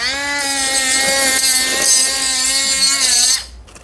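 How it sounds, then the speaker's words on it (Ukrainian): A high-pitched angle grinder motor whine runs steadily at close range, spinning freely, then cuts off abruptly near the end. "беремо ми чудо болгарку"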